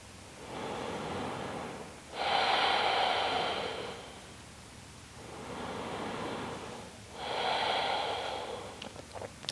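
Slow, deep breaths during yoga practice: long, airy inhales and exhales come close to the mic in a calm rhythm of about three full cycles, with no talk.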